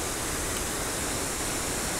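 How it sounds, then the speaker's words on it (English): Torrent of high floodwater pouring over a river crossing, a steady, dense roar of rushing water close by with no pauses or voices. "loads and loads of water coming over it"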